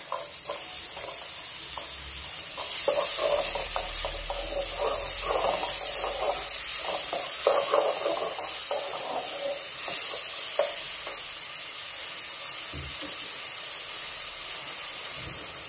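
Steady hissing sizzle of garlic and onion sautéing in oil, with occasional stirring scrapes and clinks, close and continuous throughout.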